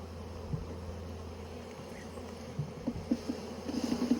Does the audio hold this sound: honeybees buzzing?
yes